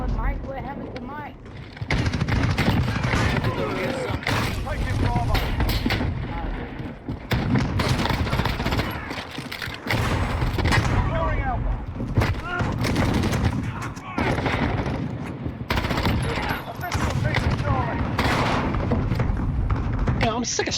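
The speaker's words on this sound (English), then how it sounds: "I'm sick of shotguns on this map." Shotgun blasts and heavy gunfire in a Call of Duty multiplayer match, dense loud repeated bursts running almost continuously, with players talking over the shooting.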